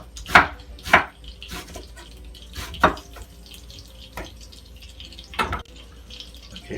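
A knife slices food on a board while cooking, giving a few crisp, irregular strikes close by, with faint kitchen water and clatter quietly in the background and no talking.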